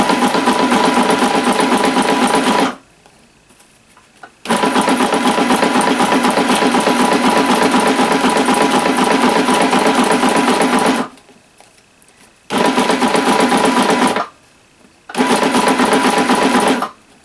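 A sewing machine stitches a crepe paper rosette in loud, close runs of steady mechanical whirring, stopping and starting in three brief pauses.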